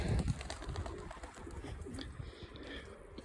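Racing pigeons coo quietly in a loft, faint low murmurs under rustling and background noise.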